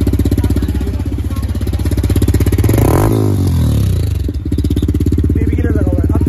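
A modified Yamaha R15M motorcycle fitted with an aftermarket exhaust, idling loud and close with a rapid pulsing beat, then revved up sharply and dropping back to a choppy idle, a faint voice in the background.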